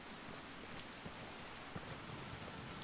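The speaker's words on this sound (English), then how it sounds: "A rainy day." Steady rain pours down in the video game Skyrim, a dense even hiss that fills the whole clip, with scattered heavier drops and low rumbles beneath it and no voices.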